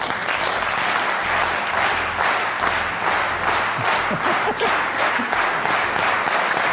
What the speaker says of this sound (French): Can you get it together to clap in sync?